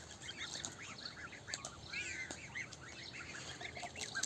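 Chickens and geese on a farm, with young chicks among them, give a busy mix of overlapping chirps, clucks and short calls at close to mid distance over a steady outdoor background.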